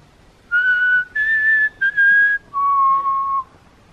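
Someone whistles the Hunger Games tune at a railway station in four clear, sustained notes, the last one lower and held longest, with quiet pauses between the phrases.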